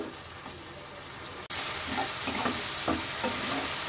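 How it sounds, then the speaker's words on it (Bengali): Cashew and poppy seed paste for Bengali dahi bata sizzles and fries in a pan, a quieter start giving way at about a second and a half to a louder, steady sizzle with scraping stirs, no voices. "ভালোভাবে কষিয়ে নেব।"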